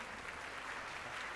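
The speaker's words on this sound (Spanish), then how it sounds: "Un aplauso, por favor." An audience at a conference lecture claps for a speaker, a faint, steady wash of applause with no talk over it.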